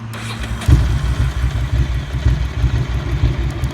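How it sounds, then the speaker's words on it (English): A Ducati Monster motorcycle engine cranks over and catches, then settles into a loud, close, lumpy idle with an uneven low throb that pulses steadily, with no voices. "this is what the bike sounds like at normal idle with no choke"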